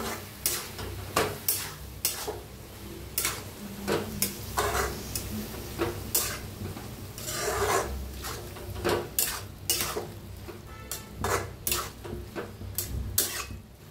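Onion and tomato with a spoonful of salt fry in a pan while a spoon scrapes and clacks against the metal in a steady, repeating rhythm over a low sizzle, close up and with no talking.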